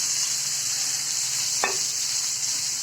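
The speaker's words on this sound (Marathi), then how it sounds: "आणि याच्यावर आता ही भाजी सोडून द्यायची आणि छान असं परतायचं." Okra (bhindi) stir-fries in hot red spiced oil in a pan, a loud continuous sizzling hiss broken by one sharp scrape of a spatula partway through.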